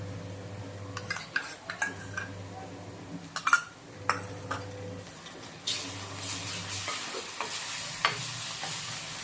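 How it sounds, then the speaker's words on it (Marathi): Onion with ginger-garlic paste frying in a pan, stirred with a metal spoon: sharp scraping clinks over a low sizzle at first, then a brighter, louder hiss of frying in the second half. "कांद्यामध्ये आलं लसूण पेस्ट मिसळून घेऊया"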